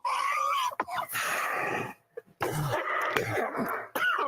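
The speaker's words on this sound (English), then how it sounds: "Those were big coughs there" A man coughs hard several times in quick bursts, raspy and close to the mic, with a brief pause before more harsh coughing.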